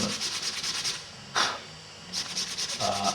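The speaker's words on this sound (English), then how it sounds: "So hopefully, last bit of rubbing down" Sanding off filler on a leather repair, rhythmic back-and-forth rubbing strokes close to the mic, a steady scratchy pulse that pauses briefly in the middle before resuming.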